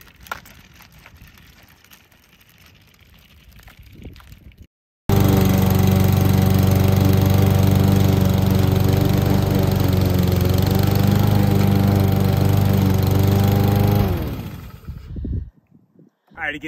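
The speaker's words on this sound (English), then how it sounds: "So we've been testing out lawnmowers." A gas lawn mower engine roars steadily and loud for about ten seconds, starting abruptly after faint background noise and cutting off near the end as it winds down.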